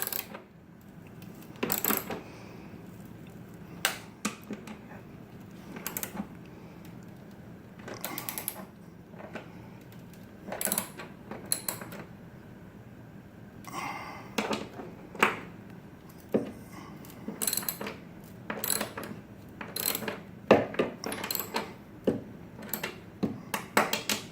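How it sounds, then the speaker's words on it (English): Ratchet tightening bolts on a stair tread, short bursts of metallic clicking and clatter repeated at irregular intervals over a quiet background. "just tighten it up by hand with a ratchet"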